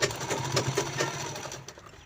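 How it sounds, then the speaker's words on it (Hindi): A sewing machine runs steadily, stitching a purse handle, with a continuous whirring mechanical hum and a rapid needle rhythm, close up and moderately loud with no talk. "ये देखिए इसे बराबर हमें यहाँ पर सिलाई लगा लेंगे।"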